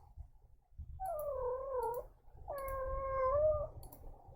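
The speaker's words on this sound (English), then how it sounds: "mind my cat in the background." A cat meows twice in the background, two drawn-out, wavering calls about a second apart, heard clearly over a low room hum with no talking.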